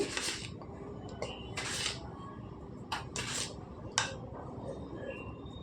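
Cooked spinach dal (paalakoora pappu) mashed in a pot with a utensil, giving soft scraping and clinking strokes in irregular bursts, close and moderately quiet.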